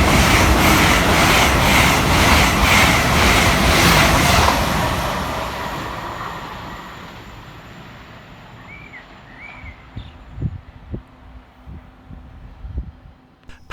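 An LNER Class 801 train passes fast, its loud broadband roar and rhythmic wheel clatter filling the opening seconds before fading steadily into quieter background clicks and thumps.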